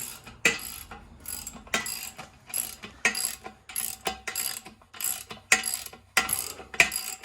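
A hand ratchet tightens a bolt on the manifold of a 1952 PD-4103 Silver-Side vintage bus with a 671 Detroit diesel. It gives repeated close clicking bursts in an uneven rhythm.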